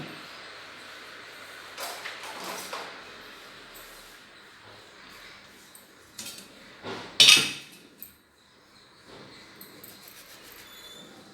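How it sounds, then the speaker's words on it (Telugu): A knife cuts lemons in a home kitchen with a few soft, scattered clacks against a board, one louder knock standing out, amid quiet room noise. "నిమ్మకాయలు కట్ చేసుకోవాలి"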